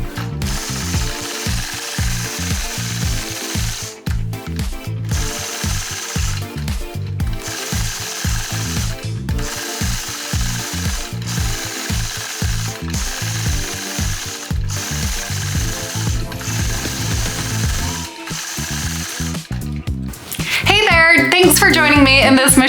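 A Sway 3 sewing machine stitches free-motion quilting on a scallop daisy design, giving a steady rapid mechanical chatter that runs in bursts with brief pauses between them. The sound is close and moderately loud, with no talk over it.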